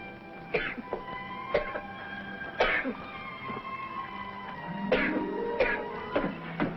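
Several short, sharp coughs and throat clearings come from a man at intervals, spaced a second or more apart, fairly close and distinct over a quiet background, with one longer rasping cough near the end.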